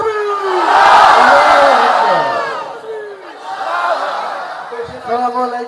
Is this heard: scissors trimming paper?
no